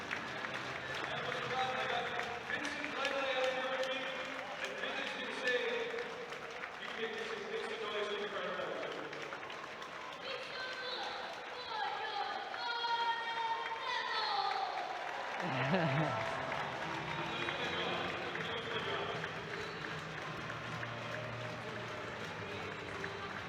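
Crowd at a Cardiff Devils ice hockey home game applauding and cheering the winning team in the arena, sustained clapping and shouts under an announcer's amplified voice.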